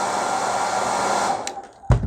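A heat gun blowing hot air onto decals on an RC car, a steady broadband whoosh that holds for over a second, then cuts out with a short thump.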